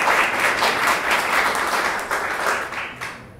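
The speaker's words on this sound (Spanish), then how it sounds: "le pido un fuerte aplauso, por favor" Audience at a scientific lecture breaks into loud, sustained applause, a dense wash of many hands clapping steadily for several seconds before easing slightly at the end.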